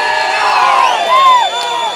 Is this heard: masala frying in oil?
no